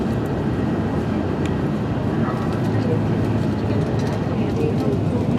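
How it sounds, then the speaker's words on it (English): A train crosses on the high speed line in a steady, continuous low rumble that holds level for several seconds, heard from a distance with no talk over it. "So a nice little train there"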